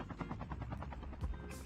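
Helicopter in a battle royale video game, a quick rhythmic rotor chop pulsing faintly and quietly for a brief moment.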